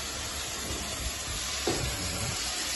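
Food frying in a pan while a quick home-style chicken dish is cooked, a faint, steady sizzle and hiss with a soft stirring scrape partway through.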